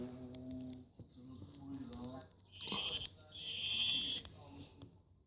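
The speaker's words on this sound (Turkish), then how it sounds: "300 gibi koyun çıkıyor lan" Sheep in a survival video game bleat in a wavering, slightly synthetic way, several calls overlapping with someone talking throughout and brief electronic tones.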